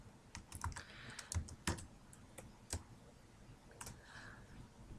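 Typing on a computer keyboard to enter data into a spreadsheet: irregular bursts of quick key clicks with short pauses between them, close and fairly quiet, with no talking.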